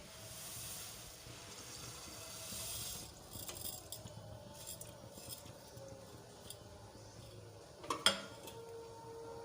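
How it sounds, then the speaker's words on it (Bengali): Fried lentils tipped into a pot of hot water for Gobindobhog rice khichuri, with soft clinks and clatter against the pot and a sharper knock near the end, all quiet and close. "এখন আমি ভাজা ডালগুলো হাঁড়ির মধ্যে দিয়ে দিচ্ছি"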